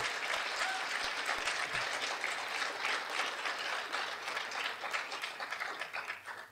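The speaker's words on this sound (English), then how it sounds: "Please give her a round of applause." Sustained audience applause at an academic panel event on trigger warnings and academic freedom, a dense, even wash of clapping from a seated crowd that holds steady and begins to taper near the end.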